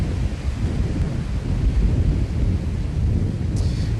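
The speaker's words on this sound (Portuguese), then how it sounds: "Como você já adiantou, está ventando bastante por aí." Strong wind roars steadily across an outdoor microphone in Itabuna, Bahia, a dense low rumble of buffeting with no pauses, loud and continuous throughout.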